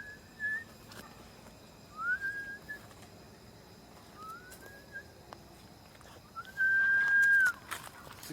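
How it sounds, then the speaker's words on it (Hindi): Whistling at a farmhouse in the woods, four separate rising whistled notes spaced a couple of seconds apart, the last one longest and loudest, against quiet background. "सीटी बजाने की एकदम क्लियर आवाज आई भाई।"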